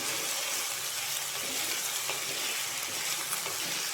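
Chopped ivy gourd (kovakka) fries in a hot pan with a steady, loud, close sizzle that holds evenly throughout, with no talking.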